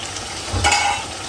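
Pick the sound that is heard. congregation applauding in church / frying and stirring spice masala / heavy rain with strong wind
frying and stirring spice masala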